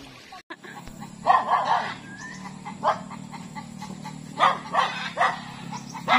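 A dog barks repeatedly at close range in short bursts, set against a steady low hum from the outdoor surroundings.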